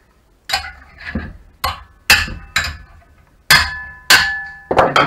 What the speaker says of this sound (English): So the easiest way is to use a hammer.